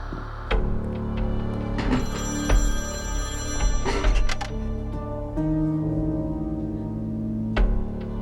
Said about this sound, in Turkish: Sanırım beklediğin telefon.